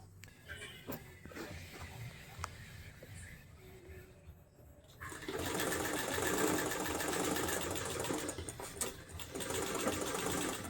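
A sewing machine starts up partway through and runs steadily with a fast, loud mechanical whir, after quieter handling noises and a few spoken words at the start.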